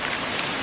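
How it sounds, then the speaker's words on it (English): Heavy rain pours outside, a loud, steady broadband hiss of drops hitting surfaces that holds unbroken for under a second, with no voices over it. "oh my god, this rain"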